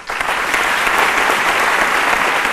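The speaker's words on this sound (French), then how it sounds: "ça s'applaudit quand même" Studio audience applause on a midday television talk show, a dense, even burst of clapping from many hands, loud and steady throughout.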